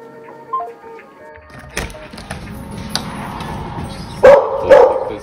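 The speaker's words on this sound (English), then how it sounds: "Dogs are too much." Several dogs bark indoors in a few sharp, loud bursts toward the end, close by, after quieter rustling and household noise.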